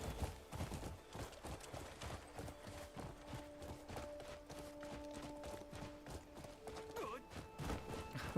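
Steady rhythmic horse hoofbeats clop along at a walking pace in the video game Crimson Desert, with a faint tonal hum in the background and no talking.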